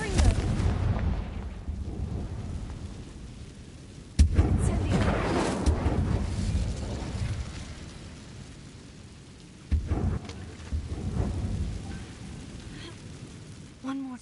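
A Confringo spell explosion in a Harry Potter video game: a sharp blast followed by a rumbling boom, another burst later, set over an ambient stormy background.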